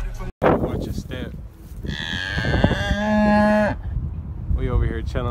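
Cows mooing on a hiking trail at Mission Peak, a couple of long, loud, close moos with breathing and rustling between them, and some faint talk in the background.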